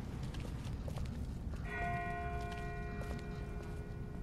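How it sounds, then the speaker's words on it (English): A distant bell tolls in The Walking Dead video game, a sustained ringing tone with clear overtones that starts partway through and hangs over low rumbling background noise. "That's not the same bell as before. This one's further off."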